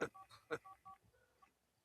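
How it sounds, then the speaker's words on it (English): A phone rings from inside a trash can in a video game, a short electronic ringing pattern of repeated tones with bursts, fairly faint and alone. "there is a sound coming from a trash can nearby, which sounds like a phone ringing"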